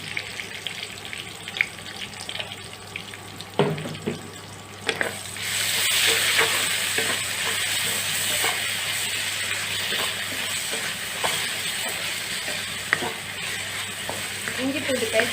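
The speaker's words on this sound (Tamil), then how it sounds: "இஞ்சி பூண்டு பேஸ்ட்டு கொஞ்ச நேரம் எண்ணெயிலே வதங்கட்டும்." Ginger garlic paste sizzles in hot oil with onions for a chicken bone gravy, a steady frying hiss that swells after a few seconds, with scattered stirring clinks and scrapes throughout and no talking.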